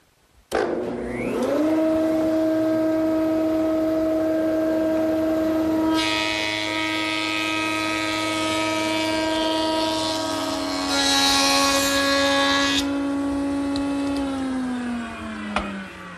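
A planer machine lowered onto a table board for a pass on the back side: the motor starts abruptly and holds a loud steady whine with strong tonal hum, while a rougher cutting rush swells through the middle and then dies away as it winds down.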